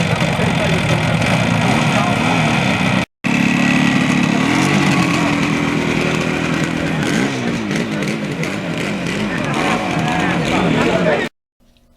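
Two-stroke motorcycle with a fault, recently fitted with a K&N air filter, running loudly and steadily near the microphone with wavering revs, briefly cut off twice.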